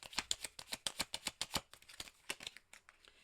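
Tarot cards are handled and shuffled up close, a quick, quiet, rhythmic run of crisp flicks and snaps that slows and softens toward the end.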